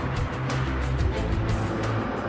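A McLaren F1 engine drones loud and close from inside the car, and its pitch dips and recovers briefly as a gear change goes through.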